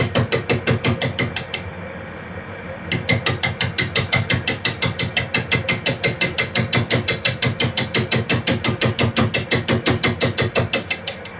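Wood on a woodturning lathe spinning at about 350 RPM clunks in a fast, loud, steady rhythm of regular knocks, with one brief pause near the start.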